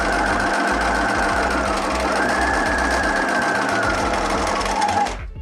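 A sewing machine stitches a seam through fabric, a loud, fast, steady mechanical whirr with rapid needle clatter running continuously before stopping abruptly at the end.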